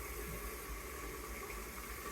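Tap water runs steadily into a sink at a hand-washing station in a clinical setting, a continuous even hiss and splash with no talking.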